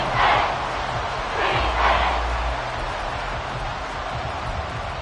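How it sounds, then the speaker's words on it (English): A football stadium crowd roars in a broad sustained wash of cheering and shouting, swelling in waves near the start and then holding steady at a distance. "This crowd turning up the decibel level."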